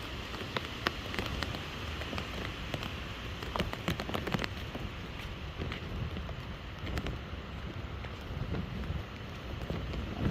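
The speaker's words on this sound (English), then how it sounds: "Oh, the rain's picking up too." Steady rain falling outdoors during Hurricane Helene, a dense continuous patter mixed with gusting wind buffeting the microphone, with scattered sharper drops standing out at a moderate, even level.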